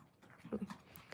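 A pet dog whimpers softly, giving a brief, faint whine with a couple of short rising notes, heard close up in a quiet room.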